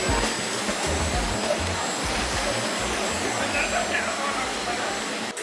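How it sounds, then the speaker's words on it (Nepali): A student-built drone flies overhead at an engineering college campus in Kathmandu, its rotors producing a steady, broad whirring hum that stays fairly even throughout, with voices in the background. "यहाँको केटाहरूले बनाएको ड्रोन रे काठमाडौँको"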